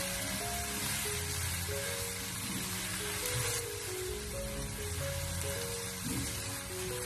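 Okra and eggs stir-fry in a wok over high heat with a steady, dense sizzle that runs throughout beneath background music.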